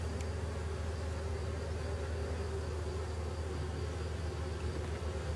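A honeybee swarm buzzing at an opened hive, a dense continuous drone of many wings, steady and close throughout with no talking.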